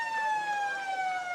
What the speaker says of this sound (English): and there's a siren